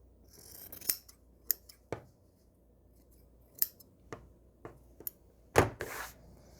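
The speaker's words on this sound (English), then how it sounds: "let's go ahead and cut those off. 1/4 inch away from that sewn line." Scissors snipping through fabric at the seams of a cat Christmas tree quilt block, sharp close snips spaced irregularly across several seconds in a quiet room.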